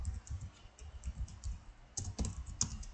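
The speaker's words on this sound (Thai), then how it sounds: "แล้วคราวนี้เราก็พิมพ์ออกมาเลยว่า" Fingers type steadily on a computer keyboard while entering Python code, a close, quiet run of soft rapid key clicks with a few sharper taps near the end.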